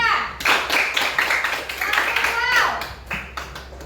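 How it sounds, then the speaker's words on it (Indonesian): A classroom of children claps for a group, a close, busy patter of many hands, with children's voices and cheering mixed in and a brief lull near the end. "Kasih semangat dulu tepuk tangan untuk kelompok 2."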